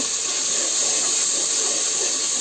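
Spice paste poured into hot cooking oil, sending up a continuous loud hissing sizzle that stays steady and close for the whole moment without any voices.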